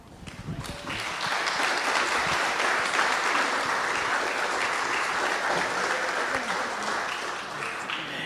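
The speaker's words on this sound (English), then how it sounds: "maybe we can give him a big round of applause this year" Sustained applause from a conference audience honoring MC Peter Robbins swells quickly and holds as a dense, even roar of clapping, with a few faint voices underneath.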